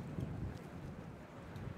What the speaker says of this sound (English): A pretty windy day on this Pretty Wednesday.